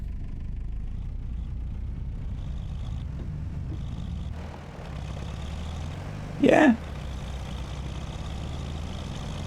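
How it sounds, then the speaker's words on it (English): MB Trac tractor engine in Farming Simulator 25, a steady low diesel rumble running continuously, with a brief word spoken over it. "I don't dislike that engine sound."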